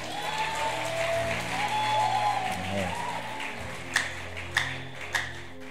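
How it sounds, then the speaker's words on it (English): Applause rises from a church congregation, a steady broad wash of clapping with a few sharper single claps standing out near the end. "Clap for her."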